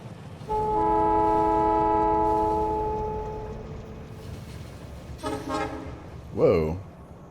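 A train in the video game Factorio sounds a long steady multi-tone horn that fades, followed by brief bursts of rail and mechanical noise, with someone talking over parts of it.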